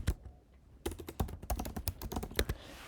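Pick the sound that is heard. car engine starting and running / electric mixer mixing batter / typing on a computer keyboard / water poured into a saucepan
typing on a computer keyboard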